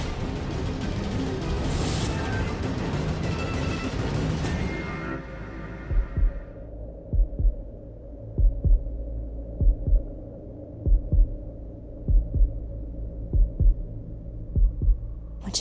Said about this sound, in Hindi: तुम्हारे दिल की धड़कन सुनाई दे रही